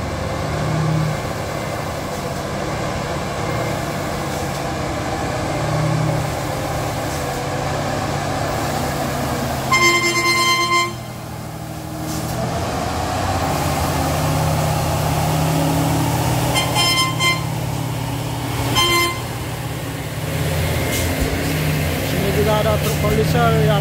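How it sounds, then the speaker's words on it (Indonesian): Convoy of tanker trucks climbing the steep Trebon hill: deep diesel engines drone and labor continuously nearby, with a few sharp air-brake or exhaust hisses, while people talk over the rumble. "Nampaknya rombongan truk tangki akan melewati tanjakan Trebon ini."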